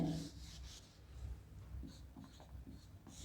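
Chalk or marker scratching across a board during a physics lecture on nuclear and particle physics, in soft intermittent strokes, faint and close, with some quiet room noise.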